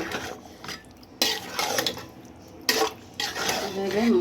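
Marinated mutton stirred and fried in a pot for rezala, bursts of spoon-scraping and clattering against the pot over a low sizzle, with brief pauses between strokes.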